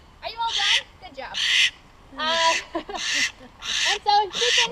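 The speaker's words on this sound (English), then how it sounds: "she is making the barn owl baby call" A young imprinted barn owl raised at a wildlife center gives repeated raspy, hissing begging calls in bursts separated by short pauses, loud and close.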